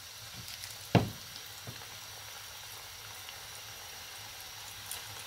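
Chicken pakoda fries in hot oil with a faint, steady sizzle and a sharp clink near the start, quiet and close, with no talking.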